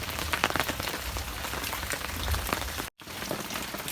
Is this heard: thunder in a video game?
no